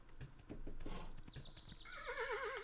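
A horse in the video game Kingdom: New Lands whinnies with a wavering neigh after a few soft clip-clop hoofbeats, fairly quiet and without speech.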